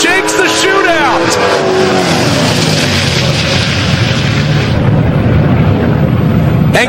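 A Mustang launches down a drag strip at a race event, its loud engine rising in pitch and roaring away under continuous excited race commentary, with crowd and track noise throughout.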